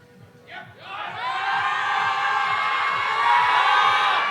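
Hometown crowd at a national powerlifting meet in Manitoba roaring for a lifter, swelling from a few shouts into sustained loud cheering and whooping, with a steady rhythmic thumping underneath.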